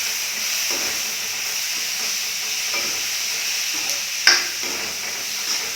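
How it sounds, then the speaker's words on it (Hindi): Steady sizzling and hissing of tomatoes frying in a pan, with an occasional soft stir and a single sharp clink. "अब ये टमाटर को हम अच्छे से भूनेंगे।"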